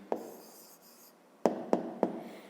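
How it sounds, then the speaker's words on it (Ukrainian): Pen writing an answer by hand on paper during a fifth-grade maths exercise, heard as a few short scratchy strokes and taps, close and clear with quiet pauses between, no talking. "а тепер записуємо відповідь"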